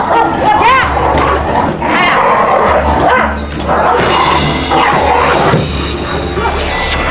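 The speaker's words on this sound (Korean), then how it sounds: "유독 춘향이에게는 으르렁대기 바쁜데요" A dog at home growling and barking fiercely as it lunges at another dog, loud and close, with sharp repeated yips and snarls amid people shouting over the scuffle.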